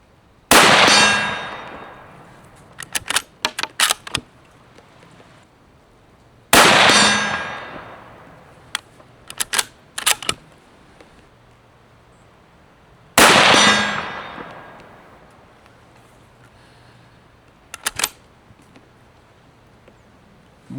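A 7.62x39 bolt-action rifle fires three loud shots spaced several seconds apart, each followed by a few ringing metallic clangs from a distant steel target, outdoors with no speech.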